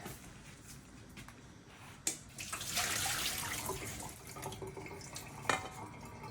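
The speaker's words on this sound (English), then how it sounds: "Let me get all the water off of those." Water pours and splashes as cooking water is drained off potatoes in a kitchen sink. A surge of running water in the middle fades into softer trickles and drips.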